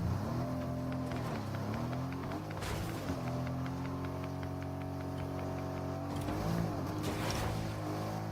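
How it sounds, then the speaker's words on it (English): A truck engine in Fortnite drones steadily throughout, its pitch dipping and rising as it shifts and accelerates, with occasional brief thumps and bursts over the constant hum. "And get to the truck."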